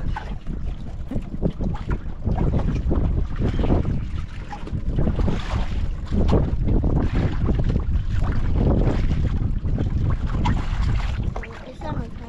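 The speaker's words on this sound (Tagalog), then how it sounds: "Lalo lumakas yung amihan ah." Strong amihan monsoon wind blows at sea from a small boat, a constant heavy roar with gusty buffeting against the microphone and water sloshing underneath.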